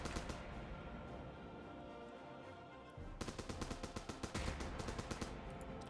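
Rapid weapon fire from the From the Depths video game, with a steady dense roar that breaks into a fast, regular stream of loud automatic shots in the second half.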